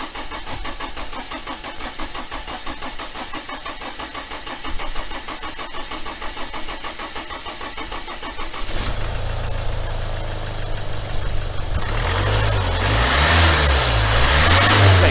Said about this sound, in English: I'm going to start the car up, give it some revs, keep the revs going for about 2 minutes or so